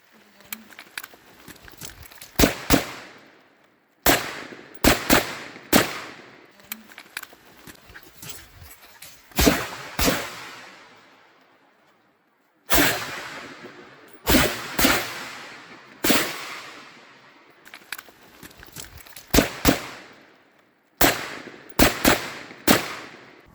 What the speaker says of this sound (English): running and fire with live rounds is not difficult at all with this rifle